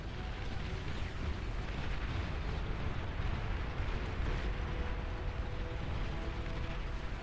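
A nuke goes off in an online strategy game, a loud, steady deep rumbling roar that carries on without a break, with no talk over it.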